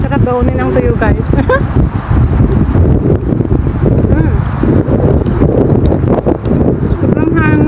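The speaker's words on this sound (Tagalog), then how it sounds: "Sobrang hangin." Strong gusts buffet a phone microphone outdoors, producing loud continuous low rumbling and flapping that never lets up, with a voice speaking through it.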